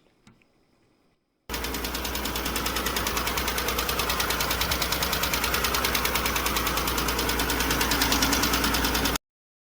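Transverse V6 auction car engine idling steadily up close, a loud continuous rumble with a fast, even mechanical pulse throughout, starting abruptly after a brief quiet moment.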